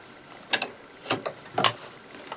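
A domestic sewing machine stitches through pieced quilt fabric in a few short mechanical bursts, near and clear, with quiet pauses between runs and no talking.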